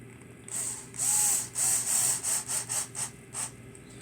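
An old Ryobi Tek4 power screwdriver with a slipper clutch drives M3 by 20 screws, giving a series of close, loud whirring bursts, each ending in rapid clutch ratcheting and separated by short pauses.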